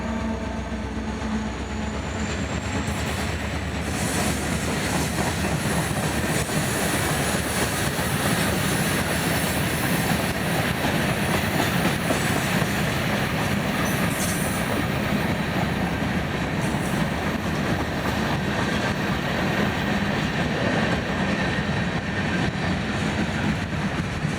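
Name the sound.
FEC railway locomotives passing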